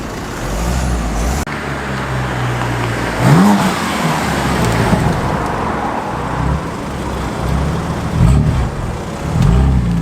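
A V6 Jaguar F-Type pulls away from an outdoor evening car meet, its engine rising and revving loudly up close over a background of other idling cars and traffic.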